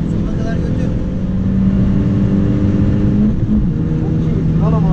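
A Peugeot 208 GTi engine revs hard on a race track, a loud, close, sustained in-cabin drone climbing steadily in pitch, with people talking over it.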